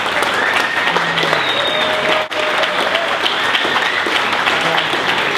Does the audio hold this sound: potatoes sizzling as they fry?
no